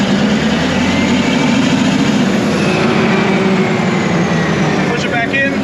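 Heavy machine with a 9 ft 12,000 lb shank running at full throttle, a loud, constant low engine roar close by that holds steady throughout, with talking over it.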